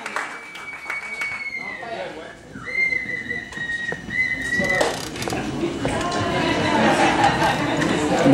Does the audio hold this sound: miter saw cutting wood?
no